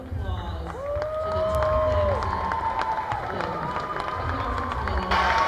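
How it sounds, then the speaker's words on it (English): Crowd cheering and applause for senior athletes at a Campbell County Cougars high school sports gathering, steady and fairly loud throughout, with whistle-like tones and shouts rising over the noise. "please give a round of applause to"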